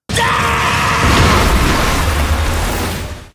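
Explosion on a mountain in the Sendokai Champions animated trailer: a loud, sudden broad blast that rumbles and slowly fades over about three seconds, with no talk.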